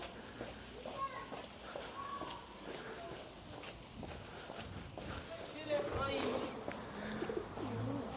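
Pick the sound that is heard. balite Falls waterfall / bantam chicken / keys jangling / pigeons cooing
pigeons cooing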